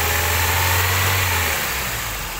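A car engine runs with its RPM raised, a loud steady mechanical roar with a low hum that drops away partway through, close by and with no talk.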